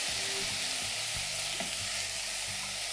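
Vegan sausage is stirred into crisping vegetables for cornbread stuffing in a frying pan: a steady close sizzle with scraping and clacking spoon strokes throughout, no voices.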